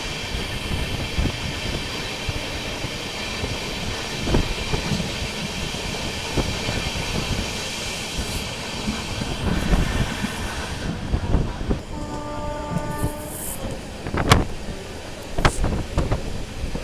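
The Mysuru to Talguppa passenger train, express 16206, runs on rails with a continuous rumble and rattle, wind buffeting the microphone, and a few sharp clanks near the end.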